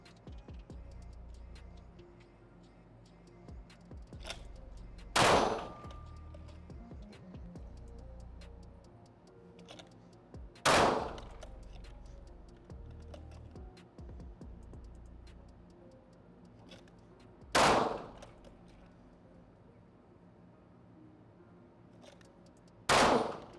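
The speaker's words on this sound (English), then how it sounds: "You have 2 seconds to break a shot effectively here." Four sharp gunshots, each one alone, about five seconds apart, loud and close during a timed shooting drill where one of four target lights switches on, with a faint low background hum between shots.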